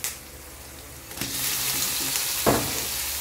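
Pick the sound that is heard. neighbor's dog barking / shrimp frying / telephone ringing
shrimp frying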